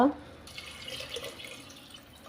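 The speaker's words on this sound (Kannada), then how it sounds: "ಇವಾಗ ಇದಕ್ಕೆ ನೀರು ಹಾಕ್ಕೊಳ್ಳುವ" Water poured from a vessel onto toor dal and rice mixed with masala in a pot for dal khichdi, a steady splashing hiss lasting about two seconds, close and moderately loud.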